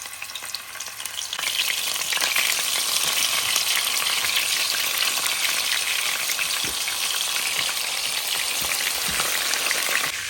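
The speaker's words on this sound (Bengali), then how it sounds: "এখন আমি এটা ফ্রাই প্যানে দিয়ে দিচ্ছি" Loud, steady frying sizzle of seasoned fish in a hot frying pan, a dense crackling hiss that runs continuously with occasional sharper pops.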